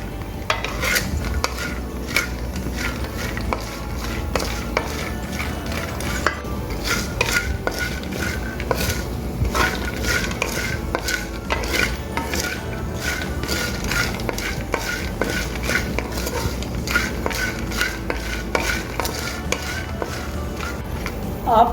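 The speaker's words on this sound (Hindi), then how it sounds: "हल्की आंच पे हमने इसको हिलाते रहना है मुसलसल।" Salted almonds stirred continuously in a pan over low heat, a steady scraping and rattling of nuts against metal with constant clinks throughout.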